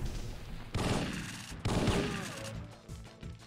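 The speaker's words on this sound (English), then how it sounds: "You guys just keep shooting at each other, I'd appreciate it." Gunfire in the video game Syphon Filter, two sharp loud bursts of shots with reverberating tails, followed by quieter scattered pops.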